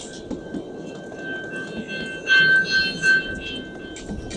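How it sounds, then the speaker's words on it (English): A train rumbles steadily along the rails, with a faint tonal whine and a few louder clattering surges partway through. "I'm now returning on the train"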